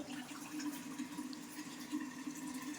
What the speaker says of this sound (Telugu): ఇప్పుడు అందులో నీళ్ళు బాగా వస్తున్నాయి